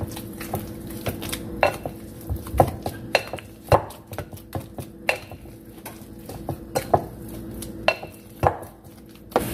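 A spoon clatters and knocks repeatedly against a metal pot while Goya sazón powder and spices are mixed into a Haitian Christmas fish dish, sharp close hits in an uneven rhythm with no talking.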